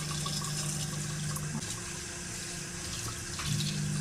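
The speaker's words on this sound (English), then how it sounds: "Just rinsing it, I'm assuming until the water that comes from it runs clear." Tap water runs steadily over shibori tie-dyed fabric in a sink, a continuous close splashing rush with slight shifts as the cloth is moved under the stream.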